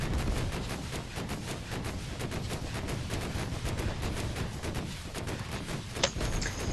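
Robot weapon fire in the mech game Robot Warfare, a steady stream of rapid muffled gunshots and booms filling the whole stretch, with one sharper crack near the end.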